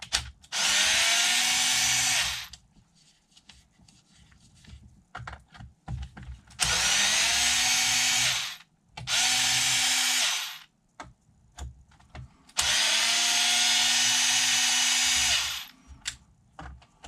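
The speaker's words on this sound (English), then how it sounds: "I am going to use my driver, so if you get sensitive ears, just" A power screwdriver backs screws out of the skid plate of a Team Corally Kronos XTR RC car, four loud, close whirring bursts of about two to four seconds each, separated by quiet pauses with small clicks and handling noise.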